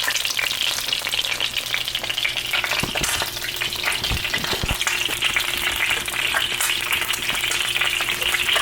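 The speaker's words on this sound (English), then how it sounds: "And then I'm gonna go ahead and flip the eggs." Eggs frying in a pan on a stovetop, a loud, steady sizzle throughout, with a couple of soft clunks of the spatula midway as they are flipped.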